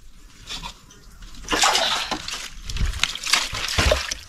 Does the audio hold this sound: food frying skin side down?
no